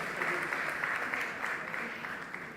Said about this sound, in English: A loud round of applause, ladies and gentlemen.